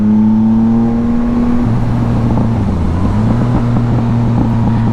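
A 2025 Yamaha MT-09 motorcycle cruising down a road, its engine droning loud and steady close by, the pitch dipping and shifting partway through as the rider changes speed.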